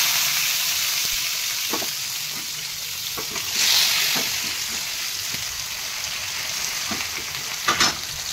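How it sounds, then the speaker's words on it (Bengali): Boiled cabbage fries in a hot wok with a steady, close sizzle, broken by occasional clicks and scrapes from stirring and a short hissing burst near the end. "আমার এই এই যে বাঁধাকপিগুলো সিদ্ধ করা, এগুলো ফ্রাই করতে হবে"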